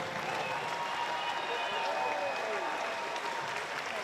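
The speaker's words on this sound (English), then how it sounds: "we have not heard the crowd as vocal for Ali Wollaston as for any event tonight" A track cycling crowd at the Adelaide velodrome cheering Ali Wollaston's win, a steady roar of applause and voices filling the arena, with a commentator talking over it.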